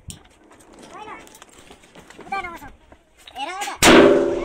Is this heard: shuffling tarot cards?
no